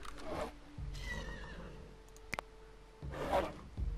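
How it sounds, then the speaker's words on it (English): In the video game Dawn of Man, a horse being chased by a bear gives two shrill neighing whinnies, one at the start and one near the end, with faint clicks and a low rumble between them and no talking. "Is that a bear chasing a horse?"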